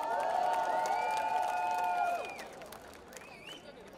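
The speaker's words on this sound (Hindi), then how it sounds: "एक बार जोरदार तालियां यार आपके कॉलेज के स्टूडेंट्स के लिए" Applause and cheering from a crowd of college students at a celebrity promotional visit to Narsee Monjee College, loud and sustained at first with shrill whoops, then thinning out after about two seconds.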